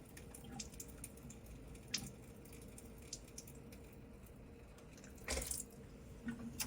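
Water from a neti pot rinsing through the sinuses and trickling into a bathroom sink, a faint, close, steady splatter and drip with a brief louder gush near the end, no talking.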